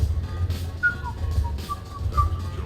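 A character whistles a short, wandering tune in the video game Mass Effect 3 during a quiet party at the Citadel, soft and close against a low background hum.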